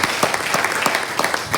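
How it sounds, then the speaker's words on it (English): A round of applause from a conference audience at the CIPM first annual conference in Edo State, with dense, even clapping and a few sharper individual claps standing out. "I think they deserve a round of applause."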